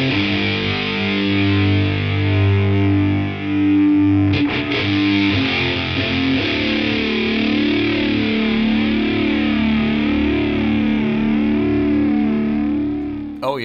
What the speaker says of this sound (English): There's a fat distortion and then the fattest distortion.